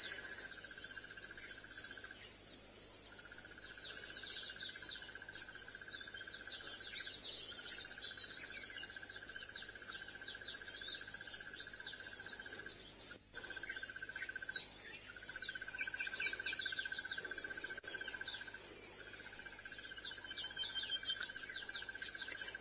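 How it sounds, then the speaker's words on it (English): Early-morning birdsong on a sunrise safari drive, with calls from turtle doves, drongos and yellow-fronted canaries, rises as scattered chirps and trills over a steady insect drone, faint and distant throughout. "From turtle doves, there were some drongos. There's yellow-fronted canaries calling at the moment."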